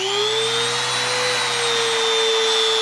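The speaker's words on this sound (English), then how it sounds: "I just take my Dremel here and just kind of," Dremel rotary tool grinding an inside radius into a metal bracket for a 1971 Dodge Dart, a steady high-pitched whine with a shifting tone that runs loud and unbroken throughout.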